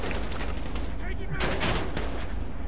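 Dense, continuous gunfire from police in GTA V Online rattles without a break, loud and close, with a voice talking over it.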